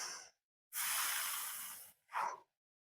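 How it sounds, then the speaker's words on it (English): Slow, deep breathing during an abdominal exercise: a long airy inhale or exhale lasting over a second, followed by a shorter breath, close and clear in a quiet room. "long deep breath in and out"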